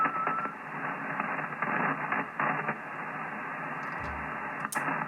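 Static on the 40-meter amateur radio band through a delta loop antenna, a continuous band-limited hiss with bursts of crackle, steady in level, with a brief click near the end.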